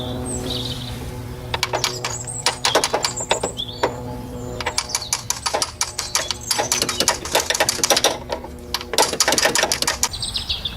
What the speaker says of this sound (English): you can just tap it in, just making sure it goes in a symmetrical way